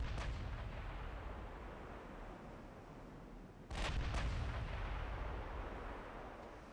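Heavy battleship guns boom in a naval battle between English and Norwegian fleets in Ultimate Admiral Dreadnoughts, with an opening report followed by a louder double salvo near the middle, then a long rumbling roar under steady background noise.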